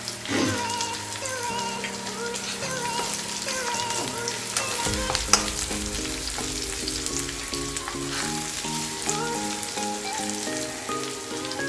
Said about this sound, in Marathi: शेंगदाणे घालूया।